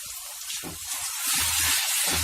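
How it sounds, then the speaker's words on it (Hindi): Water poured into a hot pan of frying onions sizzles and hisses loudly, a bright spray-like wash that swells and stays steady for a couple of seconds with no voices. "तो बिल्कुल थोड़ा सा मैंने यहाँ पे पानी मिलाया है।"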